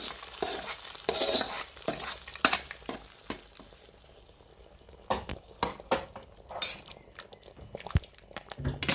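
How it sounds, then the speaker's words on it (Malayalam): Shallots, curry leaves, mustard seeds and dried chillies tempered in coconut oil for a kaya char side dish, with sizzling and frying crackle broken by repeated metal spoon stirring and scraping against the pan, close up. "അതിൽ ചെറിയ ഉള്ളി, കറിവേപ്പില, കടുക്, വെളിച്ചെണ്ണ, വറ്റൽമുളക് ഇതിട്ട് താളിച്ച് നമ്മൾ ലാസ്റ്റ് മിനുക്ക് പണിയായിട്ട് താളിച്ചൊഴിക്കാൻ പോവുകയാണ്"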